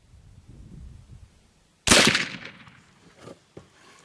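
A single sharp, loud gunshot from a .36 caliber black powder long gun cracks out at close range, with a short echoing tail and a few faint knocks afterward in an otherwise quiet setting.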